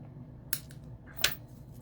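Scissors cutting linen thread, two crisp, quiet snips about three quarters of a second apart in a quiet room.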